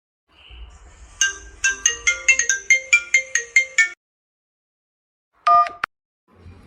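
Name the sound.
mobile phone ringtone, incoming call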